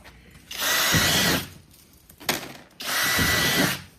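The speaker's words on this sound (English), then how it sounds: "At this point, we drill 2 holes purposely by the handle." A power drill bores holes through a plastic tote tub, two loud whirring bursts of about a second each separated by a short pause with a clunk between them.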